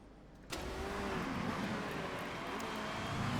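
A race car engine in Motorsport Manager pulls out of the pits, a sudden loud start followed by a steady, dense engine roar.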